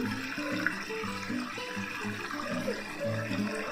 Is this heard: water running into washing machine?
yes